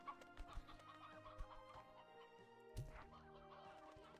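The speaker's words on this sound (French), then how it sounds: "c'est un vieux coq" An old rooster in the video game Slime Rancher 2 gives several short, close clucks over soft background game music, with one louder squawk toward the end.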